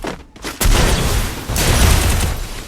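Sniper rifle fire in a video game: after a brief quiet moment, a heavy booming shot cracks out, followed by a rolling, dense wash of gunfire and echo, with a second loud swell a second later.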